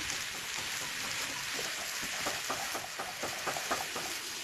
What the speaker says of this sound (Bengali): একদম ভালো করে ভেজে নেব